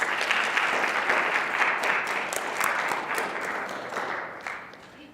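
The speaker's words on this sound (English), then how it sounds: "Let's give him our applause." An audience at a city poetry reading in Colorado Springs claps for a poet laureate emeritus, a sustained crowd of applause that holds steady and then gradually thins and fades toward the end.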